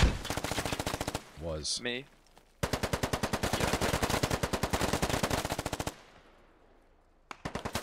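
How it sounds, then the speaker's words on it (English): Long bursts of automatic weapon fire in the Squad video game, rapid evenly spaced shots, loud and close, with a pause, a short spoken exchange and a final burst. "There's some kind of automatic weapon watching the entrance way."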